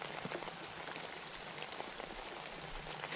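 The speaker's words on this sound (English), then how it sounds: "So the rain has returned." Steady rain falling, a dense patter of drops hitting surfaces all around, continuous and fairly soft with no voices.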